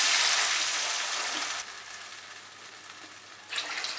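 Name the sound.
water being added to jujubes frying in a pan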